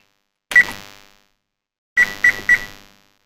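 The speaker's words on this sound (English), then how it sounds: "I'm gonna set the stove timer here." A stove timer beeps as it is set: one longer electronic beep, a pause, then three quick beeps in a row, loud and close in an otherwise quiet kitchen.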